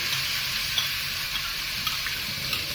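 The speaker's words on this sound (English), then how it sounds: "First, I am going to saute the onions till they are brown in color." Chopped onions, about half a kilo, sizzle steadily in a pan, with a close, continuous frying hiss and occasional small crackles and stirring scrapes.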